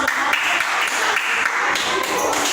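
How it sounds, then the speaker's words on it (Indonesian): Clapping for a presenting student group in a classroom, a dense, even patter of many hands sustained throughout at moderate loudness. "Tepuk tangan sekali lagi untuk kelompok 5"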